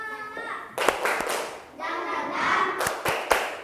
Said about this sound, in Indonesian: coba mana tepuk semangatnya dulu